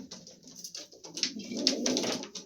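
Caged fancy pigeons let out to show their stance give soft, low cooing that swells and fades, heard close and faint with a rustle, no voices.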